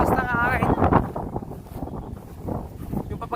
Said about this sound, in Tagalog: naririnig nyo ba yung hangin?